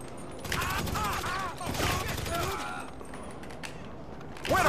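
Gunfire in the video game GTA 5, a rapid volley of shots that crackles through the clip and swells again near the end, with a voice talking over the game sounds.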